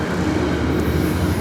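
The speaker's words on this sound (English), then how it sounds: "The train is coming by again." A train passes close by near the Appalachian Trail, giving a loud, continuous rumble and rolling roar that holds steady throughout, with no talk over it.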